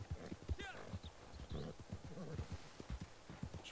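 A horse's hooves clip-clop in Red Dead Online, a quiet rhythmic run of soft hoof strikes with a brief whinny near the start.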